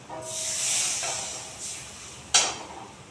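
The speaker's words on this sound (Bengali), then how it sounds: "এবার আমি জল দিয়ে দেবো" Water poured into a pan of frying potatoes and spices for a fish curry makes a loud steamy hiss that swells and fades, followed by a second sharp burst of hissing near the end.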